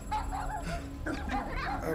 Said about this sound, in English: Puppies?